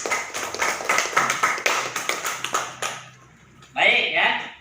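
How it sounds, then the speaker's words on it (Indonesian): Classroom students clap their hands together after the teacher's prompt, a quick burst of sharp claps for about three seconds, then a brief pause and a short noisy cheer or murmur at the end. "Kasih tepuk tangan."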